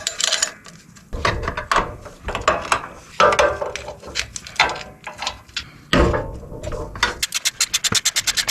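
A ratchet wrench tightens a part on a 1987 Honda mower that sat abandoned in weeds for years, with bursts of clicking and scraping metal, then a fast run of sharp, evenly spaced ratchet clicks close up at the end.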